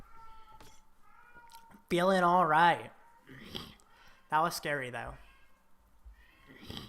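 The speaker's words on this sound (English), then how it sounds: "This cat in the background won't shut up." A cat meows in the background in two loud, drawn-out wavering calls, each about a second long, between bits of quieter talk.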